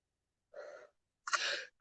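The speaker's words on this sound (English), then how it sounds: "Sorry for the yawn." A person yawning close up, with two soft, breathy vocal exhalations and a tiny trailing sound at the end, in an otherwise quiet room with no talking.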